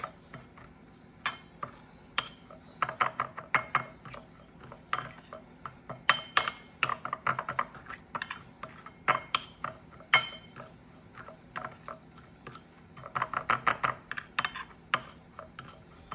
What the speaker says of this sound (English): I'm gonna go ahead and start mixing all the dry ingredients together.